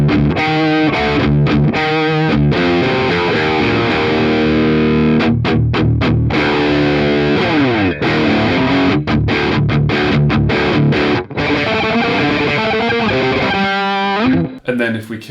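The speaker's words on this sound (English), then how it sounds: "we're now plugged into the Marshall valve state, which without the super overdrive engaged sounds something like this" An electric guitar played through a Marshall Valvestate amp with the super overdrive off rings out loud and heavily distorted, strummed chords and riffs continuing with no talk.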